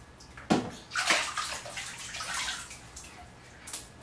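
Water splashes and sloshes in a bathtub during a hair wash, in soft close bursts of dripping and pouring that come and go without talk.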